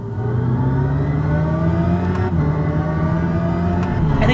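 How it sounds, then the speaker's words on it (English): Synthetic engine note from the external speaker of a Hyundai Ioniq 5 N electric sports car on the road, a loud, steady droning hum with rising and falling engine-like tones and a brief dip as if shifting, continuous throughout. "there is an external speaker that plays all this synthetic sound"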